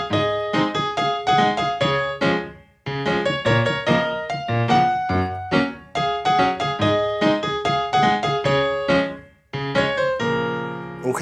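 A piano plays the verse of a song, with loud, steady chords and melody phrases repeating in short sections, broken by brief pauses, solo with no voice.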